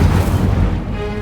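An Incendio fire spell is cast in Hogwarts Legacy, a short loud whooshing burst of flame that roars at full strength and then thins out quickly.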